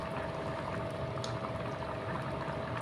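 Mutton-fat khichuri with bhog rice bubbling steadily in a pot, a dense, even simmer heard up close with no talk.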